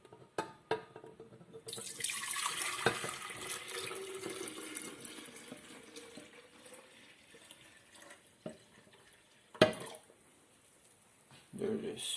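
Brewed tea poured into a glass jar, a continuous liquid stream running for several seconds with a few clinks and knocks around it.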